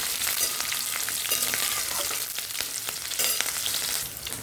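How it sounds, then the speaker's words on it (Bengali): Crushed garlic and slit green chillies fry in oil in a pan, a dense crackling sizzle broken by repeated scrapes and clatters as a spatula stirs them. "এবার সব কিছু যে একসঙ্গে একটু নেড়ে চেড়ে নেব।"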